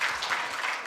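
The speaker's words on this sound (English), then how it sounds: "Let's clap for her." Brief, dense applause from a conference audience for a speaker at a business management event, an even wash of clapping throughout.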